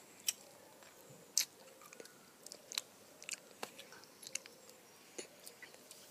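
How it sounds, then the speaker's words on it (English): Vimto sweets crunched and chewed close to the mic, a quiet run of sharp irregular bites and squelches spread over about six seconds with no talking. "Chew them. Move them around."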